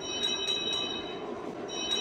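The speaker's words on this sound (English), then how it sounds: "That's Toby's whistle, by the way." Toby's train whistle from a Thomas & Friends video game sounds as a thin, sustained high tone over faint background hum, fairly quiet and heard alone with no speech.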